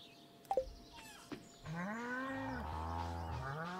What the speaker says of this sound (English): Shut up, cows, you're too loud.